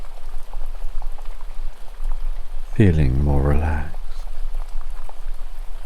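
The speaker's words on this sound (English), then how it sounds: "And as you listen to the babbling water," A babbling stream runs as a steady, gentle bubbling and trickling wash of water throughout, with a soft voice speaking briefly over it.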